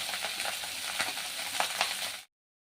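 Rice tipped into a hot pan with whole spices, cardamom, cloves and bay leaf, for Bengali-style fried rice: a steady close sizzle and frying hiss with a few scraping stirs, alone without voices, stopping abruptly.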